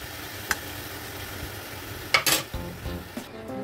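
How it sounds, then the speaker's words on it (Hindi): Potatoes and beans stirred together in a kadhai: a faint background sizzle with a few sharp metallic clinks and scrapes of a spoon against the pan, the loudest cluster near the middle, close by. "लो जी हुनप्पा कर देना है ठीक से मिक्स आलू और बीन्स को"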